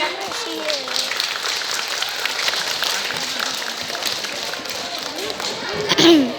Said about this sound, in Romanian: Îl aplaudăm tare, tare ca și când ați fi voi în locul lui.